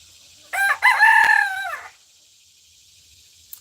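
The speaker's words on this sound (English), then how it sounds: "the chickens you're hearing right now are my silkies" A silkie rooster crows once, a loud drawn-out call lasting over a second, close by and otherwise quiet around it.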